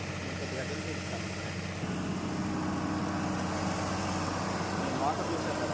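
A motor runs at a construction site in Amaravati, a continuous mechanical drone that holds steady throughout, with a slight shift in tone partway through.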